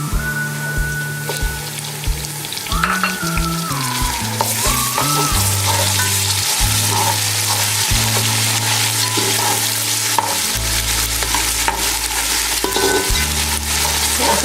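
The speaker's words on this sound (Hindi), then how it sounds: "साथ इसमें अदरक लहसुन का पेस्ट डालेंगे हम जो हमने रखा था।" Ginger garlic paste fries in a pan for chicken biryani, with a continuous close, loud sizzle and crackle broken by the scrape and clink of stirring.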